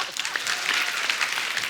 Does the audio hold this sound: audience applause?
yes